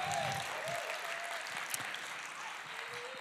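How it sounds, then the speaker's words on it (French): Steady, fairly distant applause fills the hall at the closing awards night of an international fantasy film festival, a soft even wash of clapping with a voice speaking over it. "Oui, allez-y, j'aime bien qu'on m'applaudisse."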